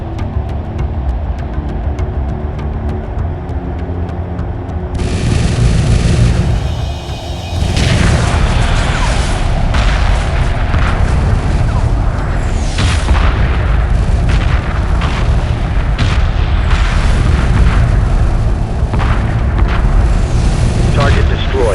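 Heavy explosions from a space battle in the Homeworld 2 video game: after a few seconds of lower rumble, a sustained barrage of loud, overlapping booms and blasts rolls on continuously, with the roar staying dense and close.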